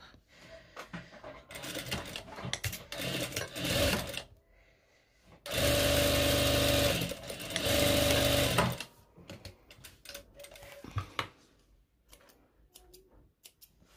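Sewing machine stitching a long skirt with an elastic waistband: bursts of rapid whirring stitches, the longest running steady for about three seconds, between quieter handling noises, close and moderately loud.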